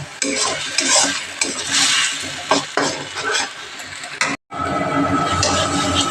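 Green chillies and coconut fry loudly in a pan, a steady close sizzle broken by scraping stirs, with a brief silence near the end before the frying resumes.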